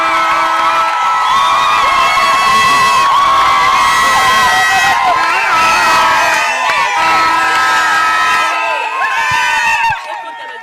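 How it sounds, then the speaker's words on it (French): Wedding guests at a customary and civil ceremony cheer, whoop and shout for the newly married couple, a dense, loud crowd roar that holds steady for about ten seconds before dropping off. "applaudissez pour eux."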